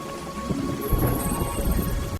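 Thunder rolls through a storm with rain falling, a low rumbling swell over a steady wash of raindrops, heard alone without voices, moderately loud and close.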